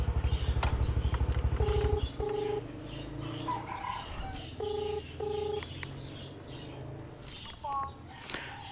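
Tones from a phone being dialed to call a ride-hailing service, sounding in two short pairs of beeps with faint background noise and a few brief chirps around them.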